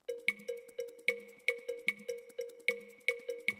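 Cowbell percussion in a music mix, struck in a steady repeating pattern of bright, ringing metallic hits with short decays, loud and alone with no voices.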